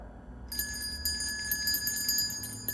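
Salvation Army Red Kettle hand bell ringing in a quick steady rhythm of bright metallic strikes that start after a brief pause and sustain their ringing overtones, fairly close over a low background rumble.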